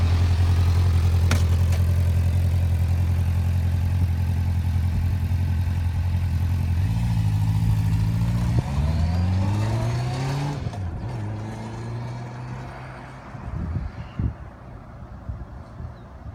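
A motorcycle on a training circuit at a DVSA test site, engine droning steadily nearby and then rising and falling in pitch as it revs and pulls away around the course.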